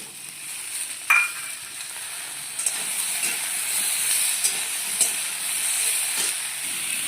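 Vegetable stems and tomato frying in a little oil, a continuous close hissing sizzle with a few sharp spatters and light stirring knocks throughout, no talking.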